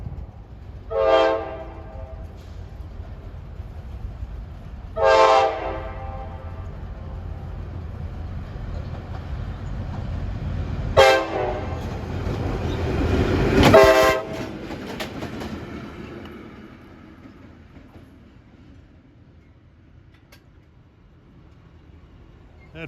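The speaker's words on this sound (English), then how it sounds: "we got a work train headed eastbound towards the Wellwood Avenue siding" LIRR work train headed eastbound on the Main Line near Bethpage and Hicksville. Several loud horn blasts ring out over a steady rumble of rolling cars and wheel clatter that fades away afterward.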